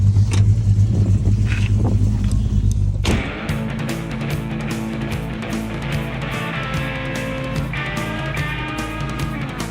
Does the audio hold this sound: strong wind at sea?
no